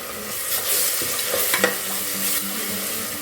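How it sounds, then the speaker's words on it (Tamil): Ginger garlic paste sizzles and fries with small onions in a pan, stirred steadily with soft scraping over a constant crackling hiss, close and fairly loud with no talking. "எடுத்து வச்சுருக்கிற இஞ்சி பூண்டு பேஸ்ட் சேர்த்துக்கலாம்."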